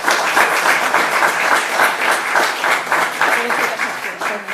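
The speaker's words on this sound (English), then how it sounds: "if we could have one last round of applause for all of the people who have done this" An audience at a school governing board meeting claps together in sustained, loud applause, a dense rippling patter that holds steady and then starts to fade at the end.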